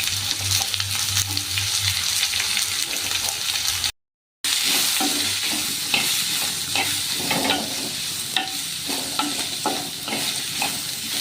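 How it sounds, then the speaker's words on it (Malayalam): Shallots and sliced onion sautéing in oil in a pan for a Kerala prawn roast, a steady loud sizzle with scraping stirs throughout and a brief gap partway through. "ഇത് നല്ലതുപോലെ ഒന്ന് വഴറ്റിയെടുക്കാം"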